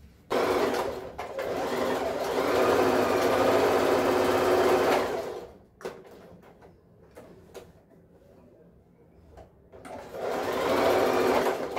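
A sewing machine stitches a safety seam on the strap of a waterproof insulated lunch bag, with two long close bursts of fast, even whirring separated by a quiet pause and a few small clicks.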